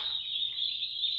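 A flock of 200 chicks in a heated poultry brooding room gives a continuous shrill chorus of high peeping that carries on evenly through the whole short moment.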